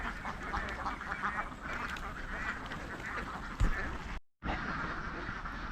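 A duck farmer's flock on the water in Karuvatta keeps up a thick, continuous chorus of quacking, fairly close and steady, with one brief dropout near the end.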